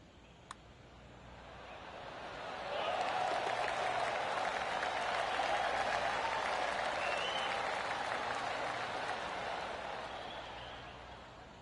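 Golf gallery applause at a PGA Tour victory, a broad wash of clapping that swells after a few seconds, holds steady and slowly tapers off, with no talk over it.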